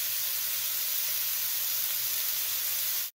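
Chicken pieces sizzle loudly and steadily in a non-stick skillet over medium-high heat, a close, even frying hiss that stops abruptly at the end.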